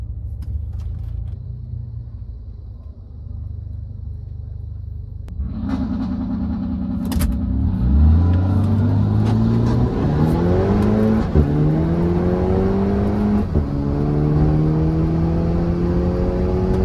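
Jetta in a street drag race against what may be a twin-turbo V8 Mercedes, revving loudly, then accelerating hard with rising engine pitch and several gear shifts, close and alone with no talk.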